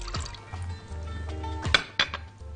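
Lemon juice for a pasta salad dressing is poured into a bowl, giving short liquid gurgles with clinks of glass and utensils, close and clear, with no talking.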